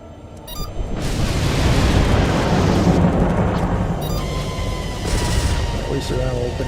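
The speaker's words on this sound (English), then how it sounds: "At least they're now opening fire." A heavy, continuous roar of weapon fire and explosions in a space combat game, loud and dense, with rumbling booms layered over each other and a voice speaking underneath.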